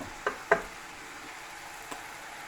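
Pasta and vegetables stir-frying in a pan, a soft, low sizzle under a couple of sharp utensil taps early on and a fainter tap later, quiet and close.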